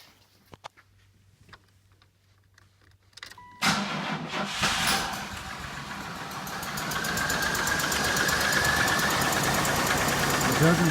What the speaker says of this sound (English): You can hear a definite knock.